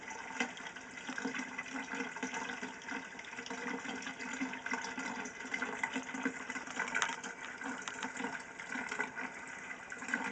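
Water rushes steadily during an aquarium water change, a continuous hissing flow that swells and eases slightly throughout, close and moderately loud with no talking.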